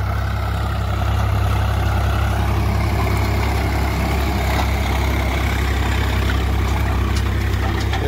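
The Swaraj 843 XM 4x4 tractor rumbles steadily, its close, loud diesel engine turning around 1200 rpm while pulling a disc harrow through field soil, with a slight swell in level early on and no speech.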